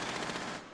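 Gunfire in the video game Rainbow Six Siege rattles out as a rapid, continuous automatic burst, fairly quiet and somewhat distant, then cuts off.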